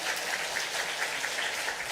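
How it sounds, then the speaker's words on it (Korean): A congregation at a Wednesday prayer meeting in a Korean church gives a steady, fairly soft round of welcoming applause, many hands clapping together in a dense wash with no voices standing out. "우리 환영의 박수 한번 할까요?"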